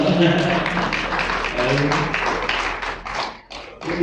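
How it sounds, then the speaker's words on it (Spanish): A church audience claps for a brother, a short burst of scattered claps and thumps heard beneath continuous talking. "un aplauso para el hermano"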